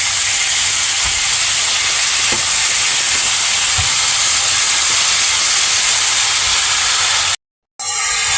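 Chicken pieces dropped into a pot of hot frying garlic, giving a loud, continuous sizzle and hiss close up that holds steady throughout, with a brief cutout near the end.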